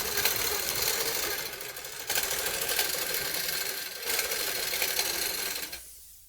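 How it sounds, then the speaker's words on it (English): A Grace Company automated sewing machine stitches out a pattern with a fast, continuous mechanical chatter, close and steady, broken by two short pauses before it stops near the end. "I'm quickly going to sew this, and literally we're going to create a new pattern by simply sewing this out 4 different times at different angles"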